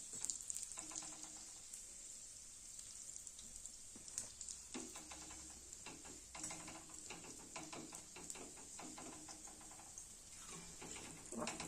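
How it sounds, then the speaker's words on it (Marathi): Bhature deep frying in hot oil give a steady, fairly quiet sizzle with faint bubbling and crackle running throughout, now and then broken by soft clinks of a utensil. "अशाच पद्धतीने सर्व भटुरे मी तळून घेणार आहे."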